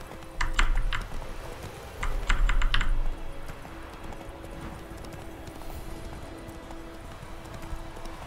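Horse hooves clip-clopping in The Witcher 3: Wild Hunt come in two quick bursts of rapid, close hoofbeats near the start, then the steps fade and a quieter game ambience remains.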